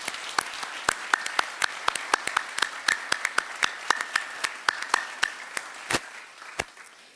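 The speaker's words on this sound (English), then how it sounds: "And I think that deserves a round of applause." A round of applause at an awards evening, sparse and distinct individual claps in a steady irregular rhythm, fairly close and moderate in level, with no talking.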